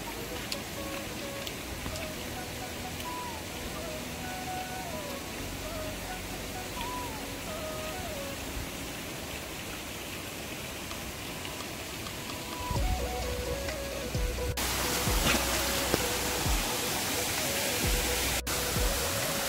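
Rain falls in a steady broadband hiss that holds evenly through the whole stretch, growing a little heavier and denser toward the end, with faint background sounds beneath it.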